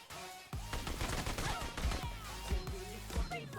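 Sustained automatic gunfire in the mobile game PUBG Mobile during a team deathmatch, loud and continuous with sharp bursts, starting after a short quiet opening.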